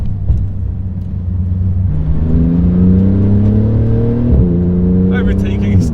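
A Porsche GT2 RS Weissach accelerates hard with a low, mean, angry engine note, the pitch climbing through gears with a brief shift dip, loud and close from inside the car.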